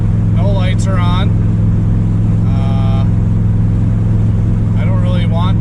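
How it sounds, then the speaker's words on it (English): A 1977 Chevrolet Nova with a partially blown-off exhaust drones loudly and steadily from inside the car while driving, a constant low rumble beneath bursts of speech. "I don't know if you can hear the car now, but the exhaust definitely must have partially blown off"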